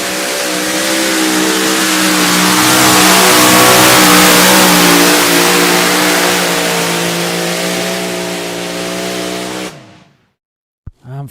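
Tractor pulling engine roaring loud and sustained as the machine drags the sled down the track, a heavy harmonic drone that holds steady for several seconds, then cuts out abruptly before a brief noise at the end.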